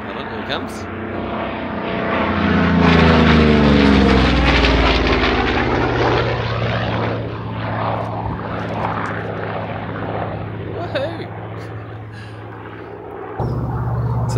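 A propeller airplane at an air show approaches and flies past, its engine drone swelling loud, shifting pitch as it passes, then fading into the distance.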